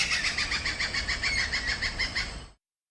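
A person imitates a stork-billed kingfisher, a steady run of rapid, evenly pulsed high calls held for about two and a half seconds, close and fairly loud, then cutting off abruptly.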